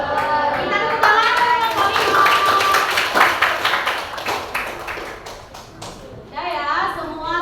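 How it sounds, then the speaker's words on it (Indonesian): Students in a classroom clap together for classmates who have just presented, a loud, dense patter of many hands lasting several seconds, with children's voices rising over it near the end. "Kita tepuk tangan."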